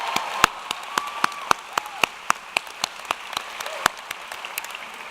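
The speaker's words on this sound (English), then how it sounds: "Another round of applause." Audience applause at a 2019 university undergraduate commencement ceremony, a steady spread of many hands clapping with sharp individual claps standing out, moderately distant in a large hall and heard alone.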